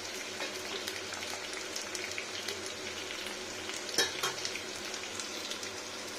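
Washed potato peels and green chillies frying in a pan, giving a steady, close, moderately quiet sizzle with a brief louder crackle partway through.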